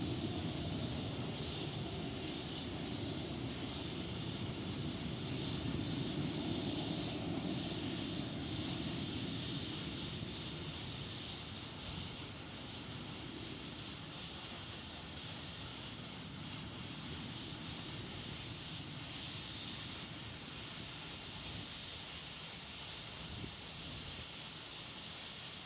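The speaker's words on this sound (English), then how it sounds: "Rocket has cleared the island." An Astra launch vehicle's rocket engine roars during a test flight as it clears the island, a broad, steady rumbling roar heard from a distance that holds for the whole stretch, with no talk.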